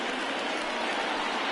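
Rain falling steadily in the baseball game MLB The Show 20, a dense even hiss of drops with no breaks, fairly loud and alone.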